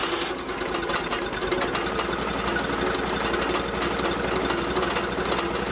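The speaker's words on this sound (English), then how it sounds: "You can hear the motor running, and it's kind of when it gets real for the customer." A Wood-Mizer sawmill motor runs steadily at close range, giving a continuous, even mechanical drone with a fast, regular pulsing texture and no talk.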